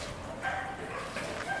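Dogs at a stray dog shelter in Chonburi, Thailand bark and yip faintly in the distance, a few short calls over a steady indoor hum.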